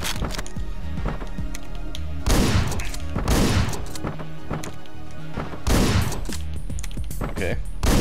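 Rapid bursts of gunfire in the top-down shooter Hotline Miami, loud sharp volleys clustered in several quick salvos with chunky impact and crash effects between them, no voice over them.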